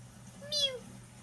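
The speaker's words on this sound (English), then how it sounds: "Mew, mew. Meow, meow." A cat gives a single clear meow that rises and falls, close by over a quiet low background hum.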